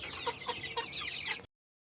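A hen that has hatched seven chicks clucks close by in a quick series of short, rhythmic calls for about a second and a half, then silence.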